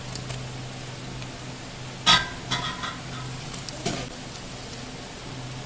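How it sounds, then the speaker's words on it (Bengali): Chopped garlic dropped into a hot pan of mutton sizzles and is stirred, with a few sharp scraping clatters over a steady low frying hiss, close by and without talk. "এখন দিয়ে দিব রসুন কুচি।"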